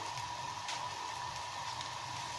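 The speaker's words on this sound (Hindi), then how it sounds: "मैं थोड़ा सा इसमें पानी ऐड करूँगी" Constant, fairly loud sizzling hiss of water added to a frying spice paste in a hot pan, unbroken from start to finish.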